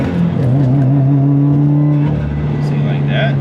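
Engine of a six-speed manual car droning steadily under hard throttle with no turbo boost building, the pitch wavering then holding level while people talk over it inside the cabin.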